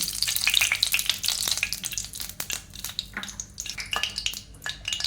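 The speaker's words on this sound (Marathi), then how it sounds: "आता आपल्याला कढईमध्ये तूप टाकायचं आहे" Ghee sizzles and crackles in a hot wok on a gas stove, with scattered pops and a few clinks of a utensil against the pan.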